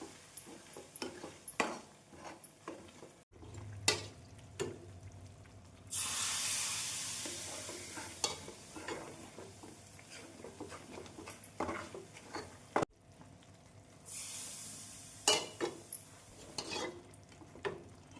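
Hot oil and ghee poured into gram flour for Mysore pak, sizzling and bubbling in two loud hissing bursts with stirring scrapes between, close up and with no voices.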